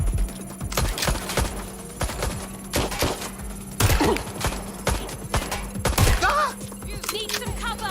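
Watch Dogs: Legion shootout with rapid gunfire bursts and scattered single shots over a busy game mix, plus thuds and short electronic tones, dense and continuous.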